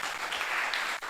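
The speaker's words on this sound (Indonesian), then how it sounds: "mau tepuk tangan yang terbaik dong buat kita semua dong" A seminar audience gives a short burst of applause, a brief dense wash of clapping that cuts off abruptly near the end.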